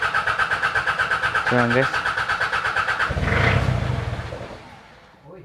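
A Mitsubishi 4D56 diesel engine cranks with a rapid rhythmic starter chug, catches briefly with a rough burst, then fades and dies; a voice speaks briefly over it.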